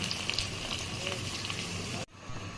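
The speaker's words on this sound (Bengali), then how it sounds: "দিয়ে দিতেছি গরম পানি" Hot water poured into a sizzling rohu fish and eggplant curry, giving a steady bubbling hiss that cuts off abruptly near the end, fairly quiet and close.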